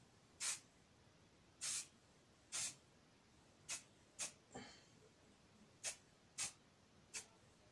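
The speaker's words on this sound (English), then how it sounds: "you coat it in a very, very thin layer of hairspray" Hairspray spritzed from an aerosol can onto metal to leave a thin coat, nine short sharp hissing bursts at uneven intervals, close and fairly quiet against a hushed room with no talking.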